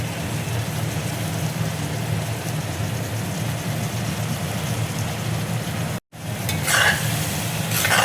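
Kadai chicken sizzling in a kadai after kadai masala goes in, a continuous close frying hiss with stirring scrapes, briefly cut off and then resuming louder with spatula clinks.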